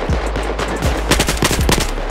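Rapid automatic gunfire from the Battlefield 4 video game, dense bursts of loud close shots with several quick volleys overlapping, and no talking.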